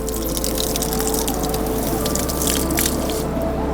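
Warm water streams steadily from a Bouge RV water heater shower outdoors, a continuous close hiss and patter with a faint tonal hum running underneath.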